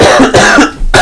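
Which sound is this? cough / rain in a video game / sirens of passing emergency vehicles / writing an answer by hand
cough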